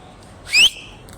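Sharp, high whistle like a referee's call, one short, loud blast alone against quiet background noise.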